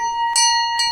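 A ship's bell rings out loud and clear at sea, two bright metallic strikes about half a second apart, each leaving a long sustained ringing tone between them.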